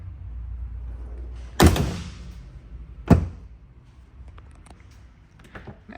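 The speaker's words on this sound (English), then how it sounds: "I'm going to go ahead and shut the hood." The hood of a 2002 Chevrolet Corvette Z06 shuts with a firm thud, followed by a second sharp thump a moment later, then a few light taps in a quiet setting.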